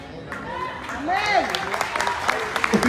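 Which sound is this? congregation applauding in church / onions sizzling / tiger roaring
congregation applauding in church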